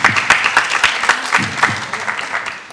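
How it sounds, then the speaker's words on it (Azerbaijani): Studio audience applause for a contestant on an Azerbaijani saz music TV show, a loud burst of rapid clapping that fades gradually toward the end. "Alqışlar Nuran üçün."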